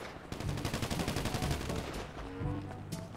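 Rapid automatic gunfire in GTA V Online, a fast rattling stream of shots that fades to scattered pops, then a final loud burst at the end, with no talking.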